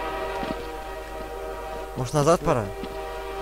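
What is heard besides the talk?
train passing in the video game Exit 8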